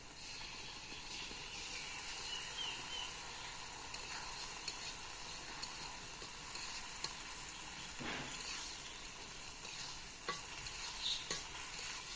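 Ginger, garlic, green chili and onion paste frying in a pan after the onions have browned, a steady soft sizzle with stirring scrapes and a few clinks throughout, no talk.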